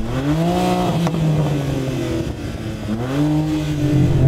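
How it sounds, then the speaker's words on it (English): A loud, close BMW M4 CS engine revs, its pitch climbing and falling in two rising pushes over a deep, steady exhaust rumble. "I'm going to rev up this M4 CS."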